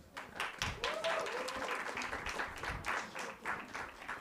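Applause from an audience at a business summit session, uneven clapping of many hands mixed with cheers and a talking voice over it, moderately faint.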